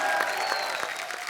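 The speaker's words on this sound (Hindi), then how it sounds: "जोरदार तालियां बजाएं किसके लिए? तापसी पन्नू और कीर्ति कुल्हाड़ी के लिए" A studio audience on a TV comedy talk show applauds to welcome guests, a brief burst of dense clapping at close range with no talking.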